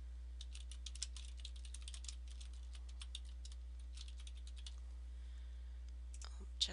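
Quiet, light computer clicks, likely from a mouse, come in scattered bursts over a steady low hum, with a slightly louder click near the end.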